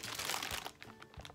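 A plastic bag holding unboxed Qposket figure pieces crinkles and crunches close by in short irregular bursts, with no voices.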